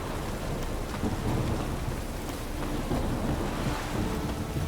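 Thunderstorm in The Witcher, with steady rain drumming on surfaces and low rumbling thunder rolling beneath it, a continuous moderately quiet wash of storm sound with no voices.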